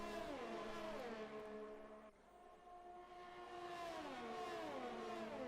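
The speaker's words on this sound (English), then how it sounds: "Twin turbo Ferrari engine." Ferrari twin-turbo V6 race cars in a racing video game at a Mexico round, several cars battling closely: loud, continuous engine drone with rising and falling revs through gear changes and a brief dip mid-way, no talking.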